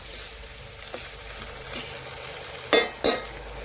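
Slices of bitter gourd fry with a soft sizzle in a pan, and two sharp metallic clinks of a utensil near the end.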